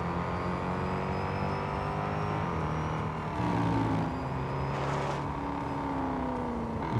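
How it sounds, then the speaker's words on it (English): A Mercedes-Benz SL65 engine in the racing game Real Racing 3, droning steadily and loudly with rising and falling pitch as it revs and shifts gears, heard alone without talking. "I seriously love how the engine sound though."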